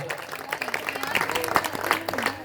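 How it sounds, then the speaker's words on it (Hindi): Listeners applaud at a Hindi comic poetry recital, a moderate burst of scattered claps with some voices mixed in, heard from a slight distance. "जोरदार तालियां बजाए मिल"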